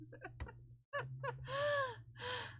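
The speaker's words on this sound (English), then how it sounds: "there was a bird making noises" A bird perched on the roof line outside gives a series of short calls, then two louder drawn-out cawing cries, with a brief pause between bursts and no talking.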